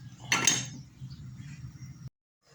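A lid set onto a cooking pot of malunggay leaves and tilapia, one bright metallic clink early on over a low steady simmering hum, close by, before the sound cuts off abruptly.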